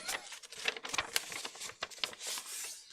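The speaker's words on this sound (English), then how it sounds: "So you hear me scrunching a bit of paper," A sheet of paper is crumpled by hand at close range, giving a dense run of crackling and rustling with uneven bursts and no talking.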